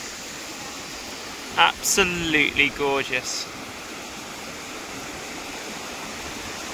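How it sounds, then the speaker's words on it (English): Thunder Falls, a 28-metre waterfall feeding the Haast River on New Zealand's South Island, roars as a steady broadband rush throughout, with a brief spoken remark rising over it near the start. "Say hello to Thunder Falls. 28 metres high, one of the best waterfalls we've seen all trip."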